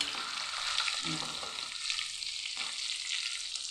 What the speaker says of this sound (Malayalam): മീനിട്ടിട്ട് നമുക്ക് വറുത്ത് പോരാം